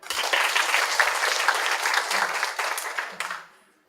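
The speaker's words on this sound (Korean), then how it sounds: "박미진 사무총장님께 큰 박수 부탁드립니다" Audience applause, steady and fairly full, lasting a few seconds before tapering off into quiet.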